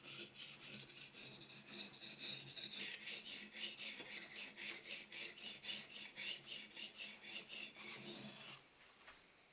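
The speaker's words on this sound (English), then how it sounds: "Finally, the blade is sharpened on multiple stones." A handmade knife blade is sharpened on several stones, with rhythmic rasping strokes repeating steadily, close and fairly quiet, about twenty strokes in a row before stopping.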